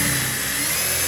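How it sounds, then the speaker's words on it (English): A power drill bores screw holes for mounting a magnetic door stopper, giving a steady, close, loud motor whine that runs without pause through the short burst. "All right, time to drill my holes."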